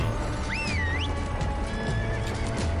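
A horse in the Red Dead video game whinnies loudly once, with steady clip-clop hoofbeats running under a constant ambient bed.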